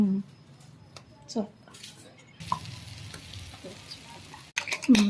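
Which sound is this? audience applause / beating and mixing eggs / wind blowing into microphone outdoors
beating and mixing eggs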